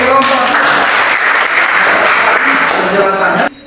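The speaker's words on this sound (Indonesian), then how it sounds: "Tepuk tangan untuk kelompok" Classroom applause for a group of students finishing a presentation, a steady burst of clapping from a small audience lasting a few seconds and cutting off abruptly.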